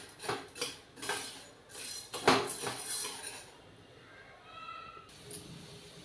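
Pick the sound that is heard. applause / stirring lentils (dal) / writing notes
stirring lentils (dal)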